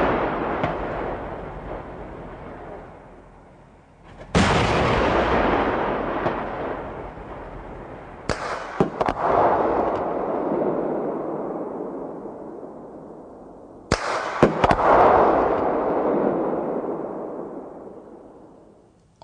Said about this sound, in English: The high effect of the 40mm APF SDST projectile is shown in firings against two different armor plate targets.